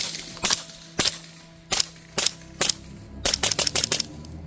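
Rifle shots from a 300 Blackout firing a sonic course of fire on a range, sharp close reports at first spaced evenly about half a second apart, then a quicker burst of several rapid shots.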